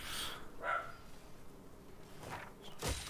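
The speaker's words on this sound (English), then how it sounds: "Man, the dog is being riled up back there." A dog barks in the background behind a game broadcast, a few faint distant barks and yips spaced apart over quiet room noise.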